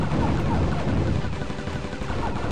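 Dual shot weapon fire in the shoot-'em-up video game Tyrian 2000, a steady dense stream of rapid blaster shots and small impacts, loud and unbroken across the moment.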